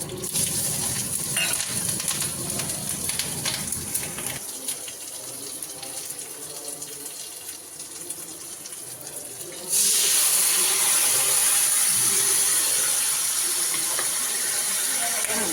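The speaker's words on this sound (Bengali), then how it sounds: "ওই তেলের মধ্যেই কিন্তু আমি সর্ষে দিয়ে দেবো, মানে আর তেল দেবো না। তারপরে দিয়ে দেবো কাঁচা লঙ্কা।" Mustard seeds and green chilies hit hot oil left over from frying fish, and a steady hiss jumps into a louder, bright sizzle partway through while a voice talks faintly.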